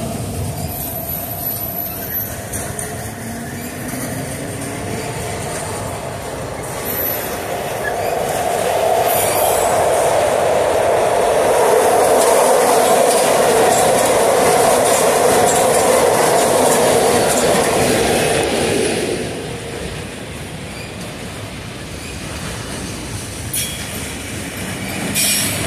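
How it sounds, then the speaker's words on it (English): A long freight train of auto rack cars rolls past the Sylvan Road grade crossing at Oakland Junction, wheels clattering and squealing in a loud sustained roar that swells in the middle and then eases off as the cars go by. "A lot of auto rack cars in this thing."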